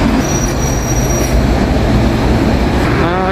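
Loud subway train on a metro line in Busan, a continuous heavy roar of wheels on rail with a high squeal running throughout, heard from close up with no voices.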